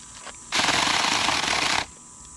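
Powered pruning saw cutting into cedar tree branches, a loud continuous buzzing cut of a bit over a second that starts and stops abruptly as the blade stalls.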